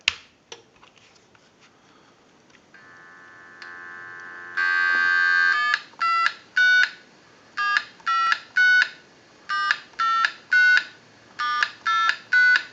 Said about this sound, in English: go ahead and give you some dial tone, and we'll walk through our numbers